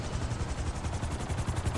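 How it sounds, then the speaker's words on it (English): A helicopter in GTA Online gives off a quiet, rhythmic rotor chop, its blades thumping in fast, even pulses over a low engine drone, with no talking. "Well, I'll keep the helicopter hot."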